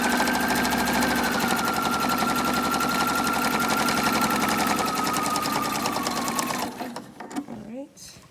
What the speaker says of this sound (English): you're sewing through several layers here.